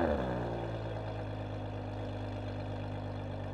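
A Ferrari 599 GTO V12 settling into a steady, deep idle right after startup, a loud continuous rumble heard close by with no talk.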